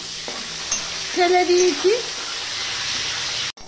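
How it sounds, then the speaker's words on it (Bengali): Long strips of bitter gourd frying in oil in a home kitchen pan, a steady bubbling sizzle throughout with brief stirring scrapes, while someone speaks a few words over it. "সেই তেলেই আমি উচ্ছেগুলো ভেজে নেব"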